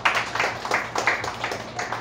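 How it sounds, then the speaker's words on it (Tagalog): A worship congregation clapping in rhythm, a steady series of hand claps, fairly close and loud, with faint voices underneath. "Palakpak si Christ."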